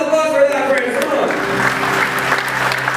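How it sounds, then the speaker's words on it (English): A wedding crowd breaks into applause after a speaking voice over background music, clapping building and continuing steadily to the end. "An applause for that"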